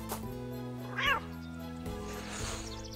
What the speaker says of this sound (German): Da ist aber eine Katze. Miau und faucht.